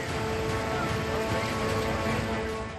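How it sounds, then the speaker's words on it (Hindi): Heavy, continuous rain pours in Madhya Pradesh, a dense, loud hiss of water with no pauses and no voices. "मध्य प्रदेश में लगातार बारिश से नदियां उफान पर।"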